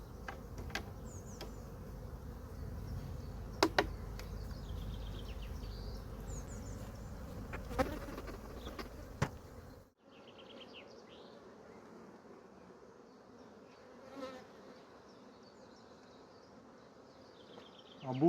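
Honeybees buzz around an open Dadant hive during a colony transfer, a steady insect drone with louder close passes in the first half, then a quieter, thinner hum as the bees settle further off.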